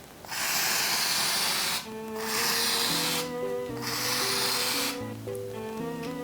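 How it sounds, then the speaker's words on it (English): Black hair dye sprays out in long loud hissing bursts, broken by short gaps, with music playing underneath. "I just sprayed it all over my body!"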